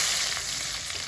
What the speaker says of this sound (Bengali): ফোড়ন দিলাম ফোড়ন দিল তেজপাতা